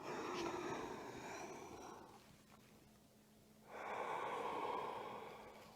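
Deep breathing during kriya yoga practice: a long drawn inhalation, a quiet pause while the breath is held, then another strong inhalation close to the mic.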